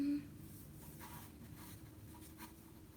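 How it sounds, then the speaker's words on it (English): Pencil or pen strokes from a sketch session, faint scratchy scribbles in short bursts over a low background hum, quiet and close. "I'm gonna do what I do best, and that's draw."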